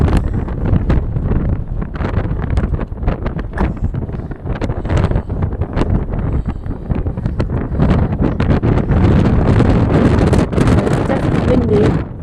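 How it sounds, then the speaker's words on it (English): Strong coastal wind in Porthcawl buffets the microphone in a constant loud roar, gusting throughout the whole stretch with rustling underneath. "Definitely windy."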